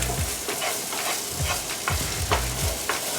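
Spice-rubbed pork being stirred in a hot pan, with a steady loud sizzle broken by repeated scraping strokes of the utensil, close up and with no voices.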